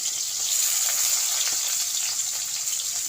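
Chopped onion and mint frying in a pan for a bitter gourd and prawn curry, giving a continuous bright hiss of sizzling oil with faint stirring underneath, steady and close, no voices.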